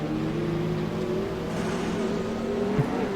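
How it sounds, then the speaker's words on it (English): McLaren P1 racing at Brands Hatch in the video game Assetto Corsa: a steady, close engine drone with a humming, whirring tone, heard alone. "You can hear that P1 next to me."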